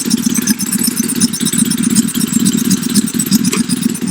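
The 6.5 horsepower engine of a 1904 Humberette veteran car runs steadily, with a loud, close, even chugging and clatter throughout and no talk over it.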